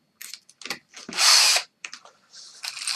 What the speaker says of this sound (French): je vais faire le perçage à la fraise étagée par en haut